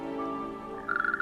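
A male Natterjack toad calls at night, starting with faint tones, then a loud, close, continuous rattling trill.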